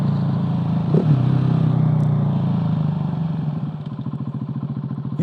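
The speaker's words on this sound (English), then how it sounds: "I absolutely love the sound of that wings exhaust." A motorcycle with an aftermarket Wings exhaust idles and revs with a deep, throaty exhaust note, close by, its pulses turning choppy and rhythmic toward the end.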